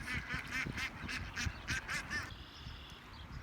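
Ducks quack in a rapid, agitated burst of repeated calls nearby, then the calling stops and only faint background noise remains.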